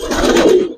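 A single short, loud coo from a coloured Gribaz pigeon sounds up close, a brief burst without any talking.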